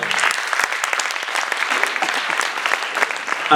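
An audience at a Tamil stage event claps loudly to welcome a guest on stage, a thick, continuous burst of applause holding steady throughout with no voices over it.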